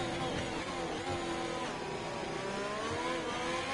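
A race car in a racing video game revs hard through a lap, its engine note climbing and dropping with gear changes and a snap of oversteer, loud and continuous throughout.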